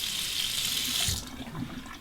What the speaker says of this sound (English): Let me warm it up under the hot water